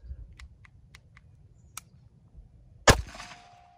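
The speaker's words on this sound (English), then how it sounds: "now let's get a 3-shot average with the 30 super carry, 115 grain" A single 30 Super Carry pistol shot with 115-grain ammunition cracks sharply and loud near the end, after a few faint clicks, with a short ringing tail.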